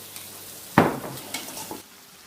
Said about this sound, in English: And our chili tomato sauce is simmering away.